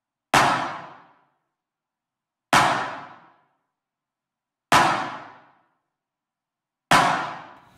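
Kick and clap drum hits crushed through a bitcrusher effect, four loud gritty bursts with sharp attacks and quick decays, evenly spaced about two seconds apart with silence between.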